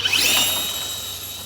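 Electric RC car motor of 3,300 kV running through an optional low-gear LCXU transmission, a loud close high-pitched whine that rises quickly and then holds steady with a faint gear buzz under it.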